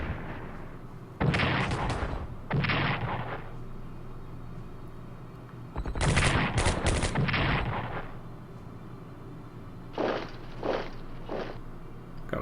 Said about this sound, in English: Defensive artillery.